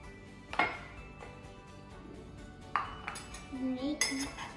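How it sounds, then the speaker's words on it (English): A spoon clinks and scrapes inside a cup while mixing Milo mug cake batter of flour, salt, sugar, Milo, ghee and milk, several sharp close taps spaced out over low background noise. "We need to mix everything inside the cup."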